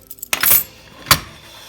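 A handful of keys, including a look-alike key for a safe-type lock, jangles in a short metallic burst, followed by one more brief clink; close and fairly loud with no voices.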